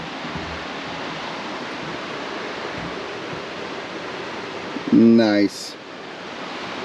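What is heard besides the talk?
creek water flowing below a ranch porch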